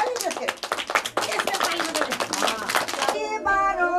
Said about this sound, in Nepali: ताली बजाइदियो त।